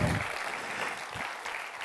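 An audience at a live stage performance gives a brief burst of clapping, moderately loud and steady before fading slightly.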